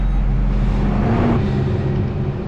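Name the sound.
fertilizer truck arriving, engine running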